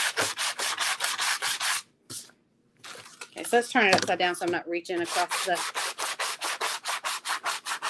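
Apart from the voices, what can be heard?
hand sanding a wooden door hanger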